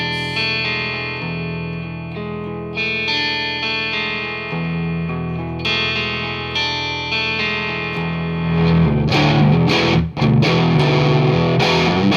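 Electric guitar played through a Wangs HD 15 amp with the guitar volume rolled back, a sustained, slightly driven chordal sound that swells louder and grittier near the end, alone with no talk.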